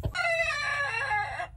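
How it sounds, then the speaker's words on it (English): A large rooster crows loudly and close by in one sustained call, with chickens on a farm that keeps hens such as a California tan, a pearl onyx and a Rhode Island Red. "Phoebe the Rhode Island Red, she likes to beat up this gigantic rooster, who is 3 times her size."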